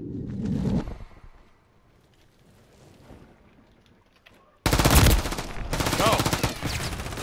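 Gunfire in the Modern Warfare 3 video game during a ranked match, with a dense, loud burst of rapid shots in the final seconds following quieter game sounds, while players chat over it.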